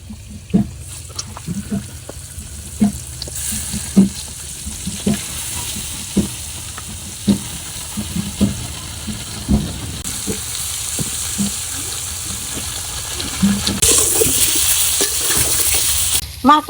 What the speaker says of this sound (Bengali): মাছও ভাজা হয়ে গেছে, আর উঠেই নেই